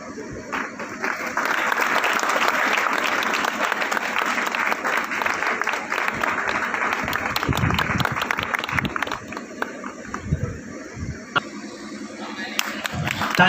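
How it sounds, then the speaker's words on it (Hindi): An audience at a foundation trust inauguration in Dorigang gives sustained applause to honour guests, a thick, steady clatter of clapping that thins near the end amid some background voices. "जोरदार ताली। अपने अतिथियों के सम्मान में तालियों की गरजाहट कम नहीं होनी चाहिए।"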